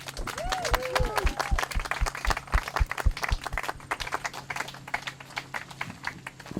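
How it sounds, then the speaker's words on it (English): Audience applause at an outdoor historical marker dedication ceremony, a moderate patter of scattered hand claps, fairly close and uneven, with some voices murmuring underneath. "So can everyone give a round of applause"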